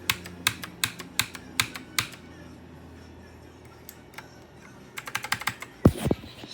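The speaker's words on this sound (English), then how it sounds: "This is a separate keyboard for your PC." A Black Shark gaming PC keyboard clacks in two bursts of brisk keystrokes, each key a sharp close click, with a quieter pause between the runs.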